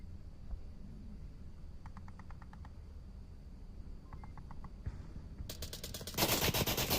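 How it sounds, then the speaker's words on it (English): Gunfire in the VR shooter Onward, heard first as distant rapid bursts of evenly spaced shots, then a loud, close sustained automatic volley through wood near the end. "Shots coming out from Ponecake towards Joe."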